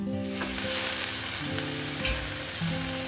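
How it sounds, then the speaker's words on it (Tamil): Fenugreek leaves sautéing with shallots in a pan, giving a continuous close sizzle and hiss with occasional stirring scrapes and light knocks, steady throughout with no speech. "இப்போ இது கொஞ்சம் நல்லா சுருங்குற அளவுக்கு வதக்கி வச்சுக்கலாம்"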